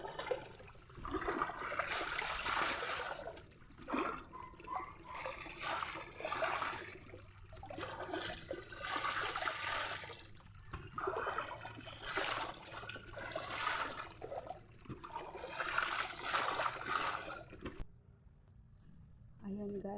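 Water rushes and splashes steadily at a mountain bathing spot, a continuous close wash of flow with a voice talking over it, ending abruptly near the close.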